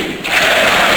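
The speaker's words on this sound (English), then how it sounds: "The home crowd cheering for the Ninjas in Pyjamas." A home crowd cheers loudly at the ESL One Katowice 2015 CS:GO grand final between Fnatic and NiP, a dense, steady roar of many voices that swells after a brief dip and then holds.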